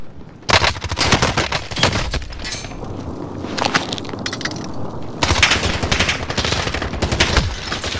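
Gunfire from a Modern Warfare video game plays in loud, rapid automatic bursts separated by short quieter gaps, with sharp cracks and occasional breaking-glass-like impacts throughout.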